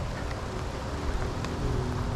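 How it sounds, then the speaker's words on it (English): Steady rain falls over an outdoor garage sale, a dense continuous patter close by with no breaks and no voices. "this rain is killing them"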